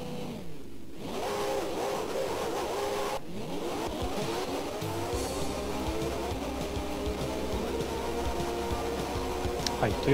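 An F1 race car engine in the racing game F1 Circus Special whines steadily, its pitch sweeping up through gear changes with brief drops between shifts, a continuous synthetic drone at moderate level.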